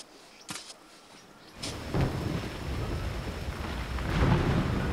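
A thunderstorm moves in over a river sandbar. Two sharp thunder cracks sound early, then heavy rain starts and builds into a loud, dense, steady downpour.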